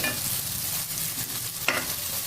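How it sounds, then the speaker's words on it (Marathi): Onion frying in a pan, a close, steady sizzle with continuous stirring and one sharp scrape of the spoon partway through, no voices. "अजून एक दोन मिनिट मी फक्त कांदा फ्राय करून घेते"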